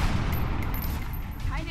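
Dense, loud gunfire in the video game XCOM Enemy Within, a brief close volley with overlapping shots and some chatter underneath.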